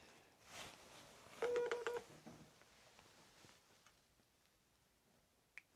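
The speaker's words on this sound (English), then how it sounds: "I've got a yes and no app. That was my phone." A mobile phone app gives a short run of electronic tone beeps, quiet and close, then a single faint click near the end in an otherwise hushed room.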